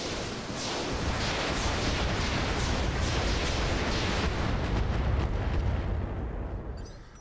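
Heavy artillery fire in the video game Roguepoint, a dense, sustained roar of overlapping booms and blasts that stays loud for several seconds before tapering off at the end.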